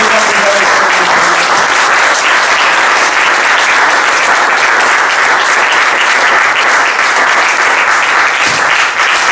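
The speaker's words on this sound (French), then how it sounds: "Est-ce qu'on peut acclamer très fort?" A church congregation at a French-speaking service applauds and cheers loudly, a dense, unbroken wash of clapping that holds at full strength throughout.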